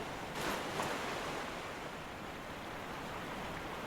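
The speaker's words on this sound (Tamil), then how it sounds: "தண்ணி வேறு அது முட்டிக்கால் வரைக்கும் இருந்தால் நடக்க முடியலங்க" Knee-deep wading through water in Dark Souls 3's Irithyll of the Boreal Valley, a soft steady sloshing wash with a slightly stronger splash near the start, continuous and unbroken with no talking.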